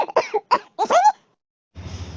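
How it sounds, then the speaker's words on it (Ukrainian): A man coughs several times in a quick cluster of rough, harsh bursts, then there is silence and a faint low background hum. "Кашель це коли кашляє чоловік."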